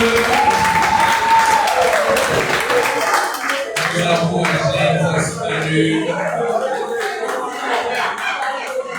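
A congregation at a youth praise and worship night applauds as the prophet Éric Tudor is called up, loud continuous clapping under a speaking voice, with a brief sung tone early on.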